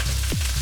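Cooked rice tipped into a very hot pan for egg-fried rice gives a brief steady sizzle with a short whooshing sweep, close and fairly loud, no voices.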